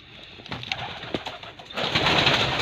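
Pigeons cooing inside an indoor pigeon room, several soft overlapping coos and wing rustles close by, growing into a denser, louder chorus of birds toward the end.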